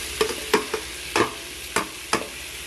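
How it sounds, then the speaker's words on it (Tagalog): Spatula strokes stir Ilocano-style pinakbet vegetables with squash and tomato in a pan, making about five distinct scraping, clattering stirs spaced unevenly over a low sizzle, close and clear with no talking. "Haluin ulit."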